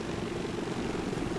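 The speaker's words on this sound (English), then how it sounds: "I think there's another freaking chopper coming, dude." A helicopter in the video game Army of Two: The Devil's Cartel drones loud and constant overhead, a dense steady rotor and engine roar with no talk over it.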